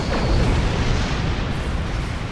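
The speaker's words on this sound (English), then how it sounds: "Quantum torpedoes." Quantum torpedoes blast Jem'Hadar ships in the space combat game Star Trek Online, making a dense, loud, rumbling explosion wash that holds steady and broad before easing slightly.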